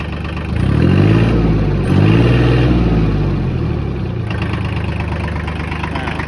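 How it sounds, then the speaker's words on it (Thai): A Kubota L2202 three-cylinder tractor engine chugs loudly and steadily nearby, rising briefly in pitch before settling back to an even idle. "เครื่องยนต์สามสูบนะครับ"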